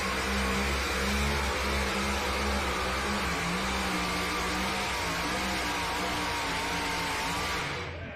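A mini rod tractor engine roars loud and unbroken at a tractor pulling competition in Bowling Green, holding a strong droning pitch for several seconds before easing off at the very end.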